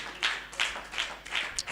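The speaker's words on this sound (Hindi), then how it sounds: "ताली बजा के प्रभु दी महिमा करो।" A church congregation claps in praise during a sermon, four or five distinct claps in an even rhythm, fairly faint and somewhat distant.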